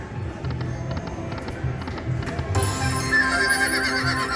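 A horse neighs and gallops with clip-clopping hooves as a sound effect in a Flintstones slot machine bonus, followed by bright ringing game chimes and tones, with no talk.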